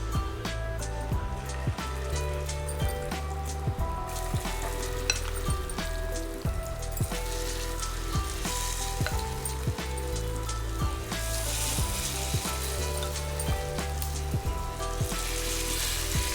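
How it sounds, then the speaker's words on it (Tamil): Marinated chicken deep-frying in oil for honey garlic chicken, a dense, continuous crackling sizzle with frequent small pops and spatters, steady throughout and without voices. "இப்போ ஹனி கார்லிக் பண்ணுறதுக்காக தான் எல்லாத்தையும் பொரித்து எடுக்கிறேன் நான்"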